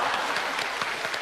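Audience applause fills the space at a stage singing event, a dense, even burst of many hands clapping at moderate distance throughout the short moment.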